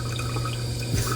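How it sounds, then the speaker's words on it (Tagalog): Strong tap water runs into a washing machine being loaded for laundry, a steady loud rush with a low constant hum beneath and a brief splashing swell near the end. "nag-load ko washing kay medyo kusog ang tubig karon"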